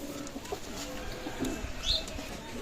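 Pakistani Saki teddy pigeons at a pigeon loft give soft, low cooing calls, faint against steady background noise, with a brief higher call near the end.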